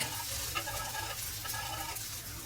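Mutton adai frying in oil on a dosa griddle over medium heat, a steady close sizzle with light scraping as it is flipped, faint and continuous throughout.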